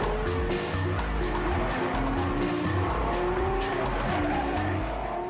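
A Lexus LFA, a limited-production front-engined, rear-drive exotic coupé, drives hard with a loud engine note rising and falling through gear changes, accompanied by sharp tire squeal and skidding, close and continuous.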